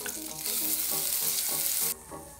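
Butter melting in a hot pan while making poutine gravy, giving a loud, steady broadband sizzle that cuts off sharply near the end, leaving a quieter background with faint tonal music underneath.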